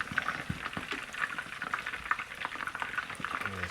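Chicken wings deep frying in hot oil for crispy Chinese takeout-style wings, a steady close bubbling and sizzling hiss with scattered pops and crackles throughout, no talking.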